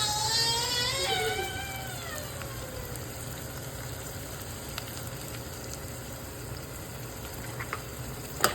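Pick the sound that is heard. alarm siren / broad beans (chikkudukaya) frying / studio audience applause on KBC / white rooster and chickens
broad beans (chikkudukaya) frying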